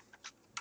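A few light keystrokes on a computer keyboard, three soft separate taps in under a second, quiet and close with no talk.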